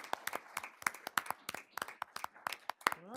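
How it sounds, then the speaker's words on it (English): Attendees at a board of trustees meeting give a round of applause, a steady patter of many hands clapping at moderate distance, heard alone without talk. "I think it's a big round of applause."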